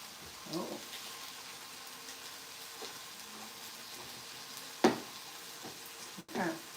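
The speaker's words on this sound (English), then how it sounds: "onions and the mushroom. Okay, I'm gonna let it saute for a few minutes before it's done." Onions and mushrooms sautéing in a pan give off a faint, soft sizzle beneath occasional sharp clinks and scrapes of a utensil against the pan, quiet overall with a louder knock near the end.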